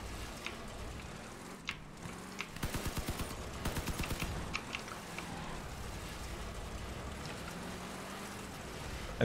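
Distant, muffled gunfire rattles through a Crossout vehicle battle, a tight burst of rapid shots in the middle with scattered single reports before and after, under a steady engine drone.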